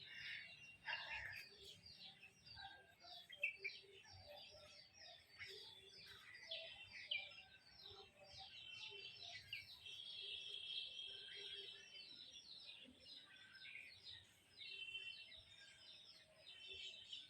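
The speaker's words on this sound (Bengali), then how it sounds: "পাখিদের সাউন্ড এটাই অসাধারণ লাগে একটু চুপ করে থাকলেই পাখিদের সাউন্ডটা পুরো শোনা যায়" Birds chirping in the foggy countryside on a morning, faint, scattered high tweets and calls from several birds at a distance in a quiet setting.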